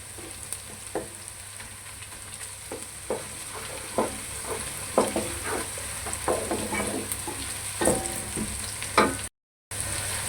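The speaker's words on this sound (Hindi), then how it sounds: "अब इसको हम थोड़ी देर भूनेंगे अच्छी तरह, जो लहसुन का कच्चापन ख़त्म हो जाए।" Onion, garlic and ginger frying in a pan for Lahori chickpea curry, a steady close sizzle broken by scattered scrapes and clicks of stirring, with no voices.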